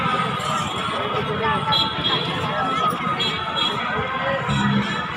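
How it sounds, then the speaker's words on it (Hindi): Large crowd of devotees at a Hindu temple festival in Kawardha, Chhattisgarh, a dense continuous babble of many voices with footsteps and thumps, close and steady. "यहाँ भारी भीड़ भी बने हुए हैं"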